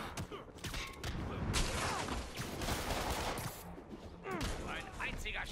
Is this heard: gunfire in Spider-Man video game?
yes